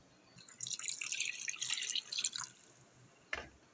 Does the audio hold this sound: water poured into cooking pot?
yes